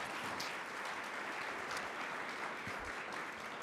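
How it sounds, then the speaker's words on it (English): Continuous applause from an audience at a nonprofit club luncheon, fairly quiet and distant, a steady wash of many hands clapping with no voices standing out. "So round of applause to all of you all."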